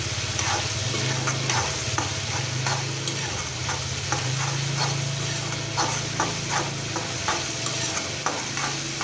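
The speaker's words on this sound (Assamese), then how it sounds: "আদা নহৰু পেষ্টটো দিয়াৰ পিছত অকণমান টাইম ইয়াত ফ্ৰাই কৰিব লাগে" Ginger garlic paste fries in a hot pan with a continuous close sizzle, punctuated by regular scraping stirs and a low steady hum from a nearby stove or fan.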